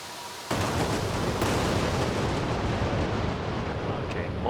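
Unguided bombs dropped from an Su-25T attack jet explode in the DCS World flight simulator, a sudden onset of dense, sustained rumbling roar that stays loud and continuous with no talk over it.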